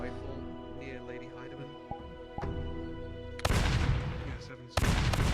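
Rifle shots in VRChat ring out as two loud, sharp cracks with a ringing tail, the first after about three and a half seconds and the second near the end, following quieter tonal sounds and a voice.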